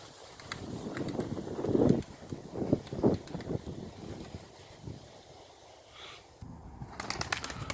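A racing pigeon in flight outdoors, with wing flutters and rushes of wind across the microphone. The whooshing comes in uneven bursts, near and moderately loud, with faint sharp sounds late in the clip.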